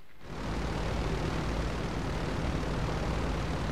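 An airplane engine roars in GTA V Online, rising within a fraction of a second to a loud, steady, broadband drone that holds unbroken.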